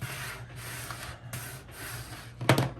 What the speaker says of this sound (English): do a more detailed squeegee down of the transfer tape on top